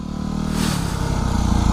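A Yamaha WR250R dual sport motorcycle riding off-road, its engine droning steadily close by with some rough clatter, briefly and without talk.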